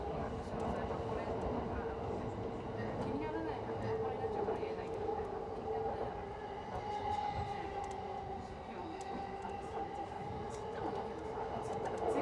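Interior of a JR Yamanote Line train running from Shinjuku to Shin-Okubo in Tokyo, a steady rumbling hum of the moving carriage that continues throughout with brief station announcement tones over it.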